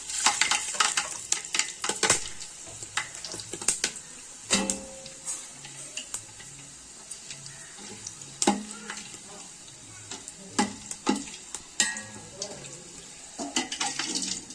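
About 25 grams of mixed whole spices fry in oil in a large pot for a two-kilo chicken biryani. The close, steady sizzle is broken by sharp scraping stirs and clatter from utensils.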